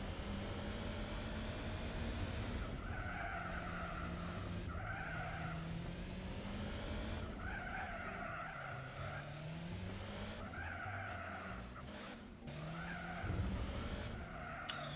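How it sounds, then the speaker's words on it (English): A race car in Gran Turismo 4 revs through its gears, each rising engine note dropping with slow upshifts from first to second, with repeated tire squeal and skidding throughout, loud and continuous. "you can hear how long it takes the car to shift from first to second, even at triple speed"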